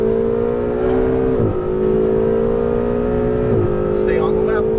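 Ferrari 488 GTB engine pulling hard on a Las Vegas driving course, a strong rising tone that dips twice with quick shifts before climbing again, loud and close, with a voice talking over it.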